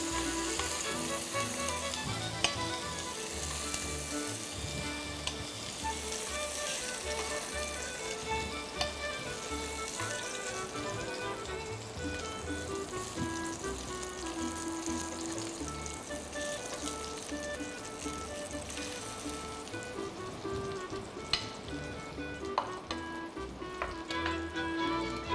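Tomato and eggplant fry in a pan with a steady, dense sizzle that runs the whole time, loud and close, with no talking over it.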